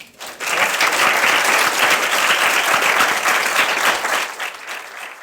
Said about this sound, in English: We should give Josh a round of applause too